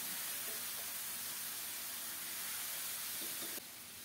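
Bottle gourd goes into a hot tempering of browned onions, giving a continuous hissing sizzle with faint stirring knocks, the sound dropping slightly near the end.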